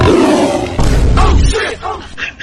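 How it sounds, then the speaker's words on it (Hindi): A lion's roar sound effect is played, giving a loud, rough, growling burst that fades into fainter roar fragments. "कभी शेर का आवाज आ रहा है"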